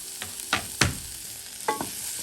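Ginger and red pepper cook in a pan for a chicken rogan josh curry, with a few close scraping stirs and soft clatters over a faint, steady sizzle.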